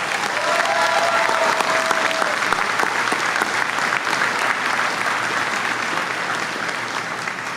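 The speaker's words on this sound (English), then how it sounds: "Let's take a moment to thank this group with a round of applause." A commencement ceremony audience breaks into loud, sustained applause that stays full and dense throughout and eases only slightly toward the end, with a faint voice briefly audible underneath.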